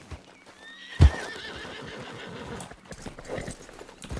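A horse in Red Dead Online lets out a loud whinny after a sharp thump, followed by steady hoofbeats as it gallops on, close and clear.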